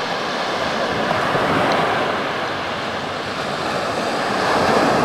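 Ocean surf at the water's edge on the Sunset Bay State Park beach near Charleston, Oregon, a loud continuous wash of breaking waves mixed with wind buffeting the microphone, swelling slightly toward the end.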